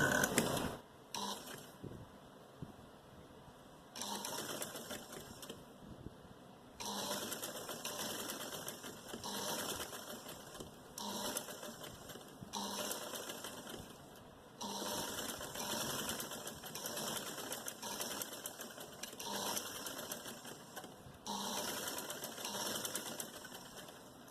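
A sewing machine stitching piping onto a garment runs in repeated bursts of rapid mechanical whirring, each lasting a few seconds, separated by short pauses, heard close up at low volume with no talking.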